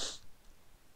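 A single sneeze, close and fairly loud, bursting out at the very start and then fading into quiet room noise.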